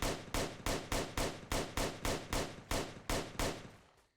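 A gun firing in the Roblox game Oretary, twelve evenly spaced sharp shots at a slow steady rate, each with a short ringing decay, loud and close with no talking.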